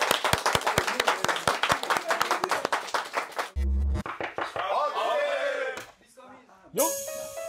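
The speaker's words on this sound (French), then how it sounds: "Un tonnerre d'applaudissements pour Kinda." Brief burst of clapping and applause from a group, mixed with voices and busy background noise.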